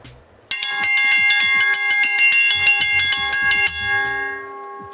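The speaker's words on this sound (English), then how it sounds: "We'll ring the bell, and everybody gets up, cleans up their cabin" A camp bell rings rapidly and continuously, bright metallic strikes repeating over several seconds with a long ringing tail that fades at the end; loud and close.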